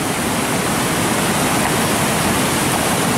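A fast-flowing river rushes with a loud, dense, unbroken roar, close by and steady, with no voices.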